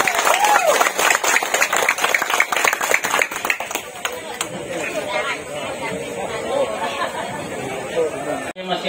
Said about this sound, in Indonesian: kasih aplaus yang meriah